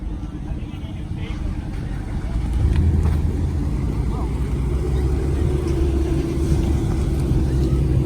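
A Mopar car pulls away from a car festival, its engine rumbling low and steady, growing louder partway through and holding close, with faint crowd chatter beneath.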